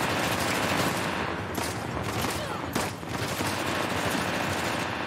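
Enemy gunfire in Uncharted: The Lost Legacy, a dense, continuous burst of automatic shots with rumbling noise, loud and steady throughout.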